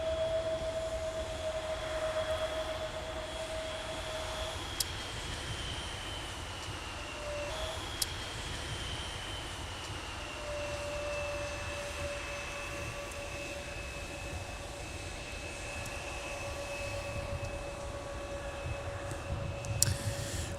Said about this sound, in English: the late departure of Delta 121 Heavy to Tokyo Haneda